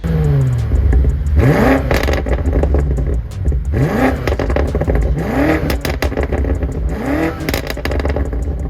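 A BMW M5 twin-turbo V8 engine rumbles loudly and continuously up close, with repeated rising revs and a crackling, burbling exhaust.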